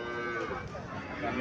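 A Friesian cow or tall calf at a cattle sale moos once in a long, close, drawn-out low call with a steady tonal tone, heard clearly and alone.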